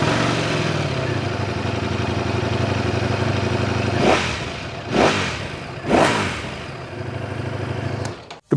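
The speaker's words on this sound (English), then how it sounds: "The 70-degree crank pins require a twin pulse firing order, which gives the bike a distinctive MotoGP bike sound." A 2025 Ducati Panigale V4S superbike with a twin-pulse V4 engine idles with a lumpy, rapid burble, then is blipped three times in quick succession, each rev rising sharply and falling back to idle, followed by a final short snap.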